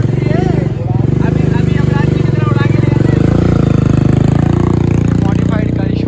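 Motorcycle setting off on a test drive outside a Kawasaki showroom opening in Bhopal, its engine droning loud and steady throughout beneath nearby people talking.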